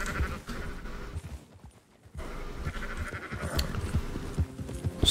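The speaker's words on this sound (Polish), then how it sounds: "owce." Sheep bleat repeatedly in Red Dead Redemption 2, mid-loud amid game ambience and movement sounds, with a brief quieter gap partway through.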